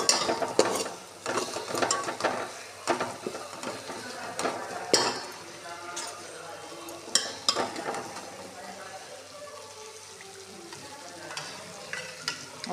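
Spice masala is stirred with oil in a pan for dal, a spatula scraping and clattering in an irregular rhythm over a light sizzle, close and loud, with no talk.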